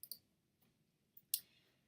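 A few quick, crisp computer mouse clicks in SketchUp, two at the start and a sharper pair near the end, close and quiet against near silence.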